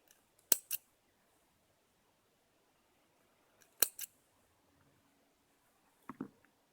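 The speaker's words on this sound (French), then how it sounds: "On vient couper les extrémités." Scissors snip cotton wick ends on a vape coil, three separate crisp paired clicks spaced a few seconds apart in an otherwise quiet room.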